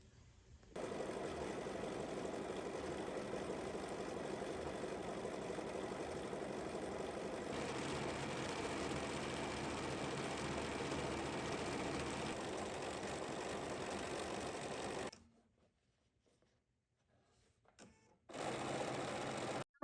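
An embroidery machine stitches a quilt block in a steady, even mechanical whir that runs unbroken for about fifteen seconds, stops into silence, then briefly starts up again.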